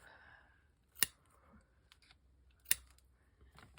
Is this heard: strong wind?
no